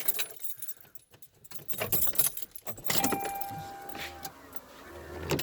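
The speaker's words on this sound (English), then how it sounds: "Let me go put the key in the ignition so I can actually steer it." Keys jangle and click as a key goes into the ignition of a 1989 Toyota Cressida with a 1JZ engine and R154 gearbox, with a few close metallic rattles over faint background noise.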